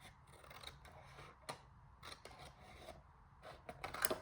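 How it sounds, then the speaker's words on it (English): Scissors cut paper for a small pocket-sized ephemera holder in a series of quiet, crisp snips, each separated by short pauses, with no talking. "I'm just going to use my scissors"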